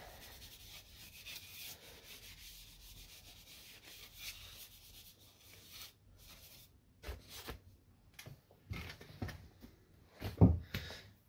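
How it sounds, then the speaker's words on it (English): Light hand sanding to denib a finished wooden bowl: faint soft rubbing strokes, quiet at first, then sharper brushing passes and a louder knock near the end, with no voices. "So just denib that."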